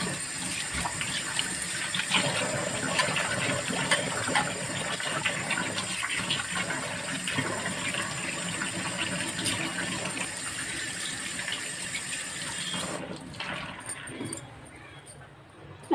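Tap water runs steadily for most of the span while cleaned prawns are rinsed in a home kitchen, with faint background sounds; the flow stops near the end.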